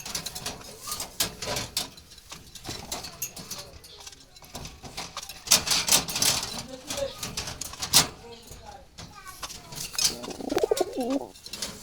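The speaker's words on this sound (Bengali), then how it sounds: "টপ কোয়ালিটি দালালি কবুতর এগুলো" Jalali pigeons coo in soft, repeated throaty calls close by, with wing flutters and a person talking over them.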